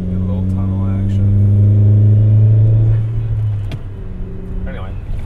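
A turbocharged Chevy Sonic with a big wheel turbo upgrade and a new ZZP air-to-air intercooler drives through a tunnel, its engine droning loud and close for several seconds before easing off, with a voice speaking over it.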